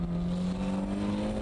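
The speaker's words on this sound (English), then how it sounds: "You have to keep revving it within the torque band." A car engine held at high revs during a drift, a loud continuous droning roar with a steady pitch over the short stretch, heard alone without voices.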